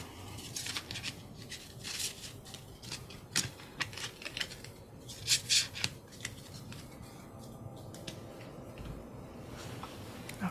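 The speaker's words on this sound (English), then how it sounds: "shuffle in 2 random cards from the discard pile" Playing cards being shuffled at a tabletop board game, a soft run of papery riffles and rubs with scattered sharp flicks, fairly close and steady throughout, no voices.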